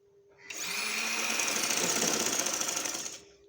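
Sewing machine stitching the inner seam of fabric piping runs in one steady, close motor whir of about two and a half seconds, starting and stopping cleanly, with no talking.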